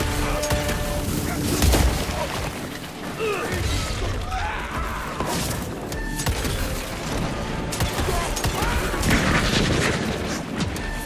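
Heavy gunfire and booming blasts from the video game Evil West, a continuous clatter of shots, impacts and crashing effects over about eleven seconds, loud and busy with no pause.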